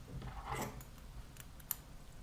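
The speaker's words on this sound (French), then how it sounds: "On coupe un bon morceau pour coudre." Scissors snip through yarn while finishing a crocheted snowman, a few quiet, crisp cuts in close succession, then a single sharper snip shortly after, in a hushed room.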